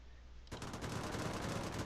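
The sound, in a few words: aircraft machine gun firing in Sid Meier's Ace Patrol video game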